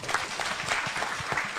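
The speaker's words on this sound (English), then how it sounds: "So let's clap for PS." Applause from an audience at a World MSME Day event at KICC, Nairobi: a dense, steady patter of clapping with a faint, scattered crowd murmur underneath.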